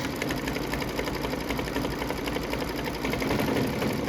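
Sewing machine running steadily through a triple stitch on a quilt block, a continuous close mechanical whir with a fast even stitching rhythm and no pauses.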